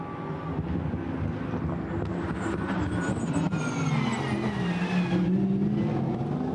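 Lamborghini Huracán Super Trofeo race cars at Spa thunder past in a close wheel-to-wheel fight, engines loud and near, with rising pitch as they accelerate continuously.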